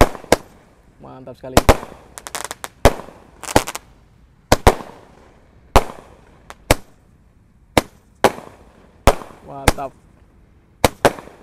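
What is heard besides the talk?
Roman candle fireworks being lit and firing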